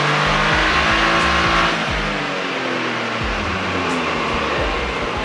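A 2023 Toyota GR Corolla engine revving hard on a dyno in front-wheel-drive mode, loud and close, rising through repeated upshifts with a rough roar and whine throughout.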